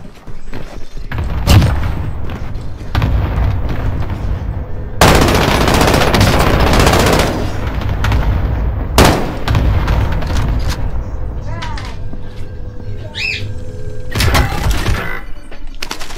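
Gunfire in Warzone, the battle royale shooter: repeated loud automatic bursts and heavy booming shots come in several close waves over about sixteen seconds, with game ambience in between and a faint voice at times.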